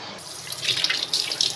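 Tap water runs steadily into a sink during face washing, starting after a brief silence and then flowing as a close, continuous splashing rush with no talk.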